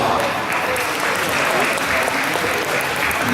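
A crowd at a dance competition applauds the competing couples with loud, continuous clapping that holds steady throughout, while a voice speaks faintly over it.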